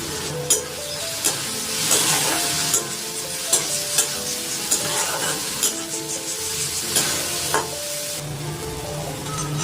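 Grated coconut and taro stems (lotis) frying in a pan for a Bengali prawn dish, with a continuous sizzle broken by regular clinks and scrapes of a spoon stirring against the pan.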